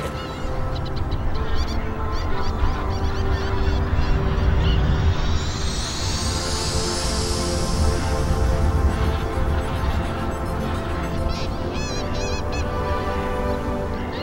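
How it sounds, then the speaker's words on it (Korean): A large flock of winter migratory geese honks continuously at Eulsukdo on the Nakdong River estuary, a dense overlapping chorus of calls close and loud throughout, with a rising whoosh partway through. "을숙도의 겨울 철새들은 대개 10월 초부터 날아들어"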